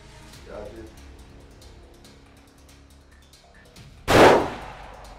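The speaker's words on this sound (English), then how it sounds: "Shooting left target." Hunting rifle fired at a target from long range: a single loud, sharp gunshot with a short decaying boom near the end, preceded by quiet talking and outdoor background.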